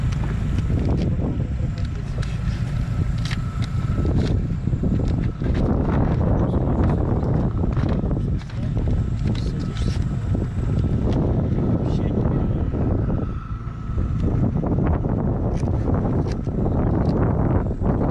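A small 15 hp two-stroke outboard motor on an Altair HDS-460 inflatable boat carrying two people drones steadily and loudly with wind and water rushing around it, the engine note wavering as the boat moves.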